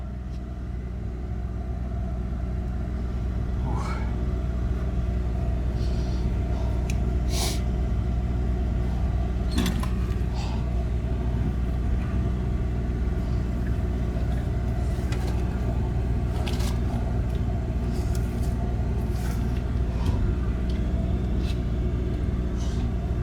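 Buick 455 big block hot rod station wagon, a ratty barn find, rumbling steadily from inside as it drives off, with a constant low engine drone and occasional clunks and rattles.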